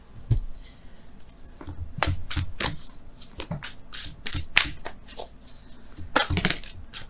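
Wisdom of the Oracle cards are shuffled by hand in a string of crisp riffling bursts and soft slaps, close and irregular, with light rubbing between them and no talking.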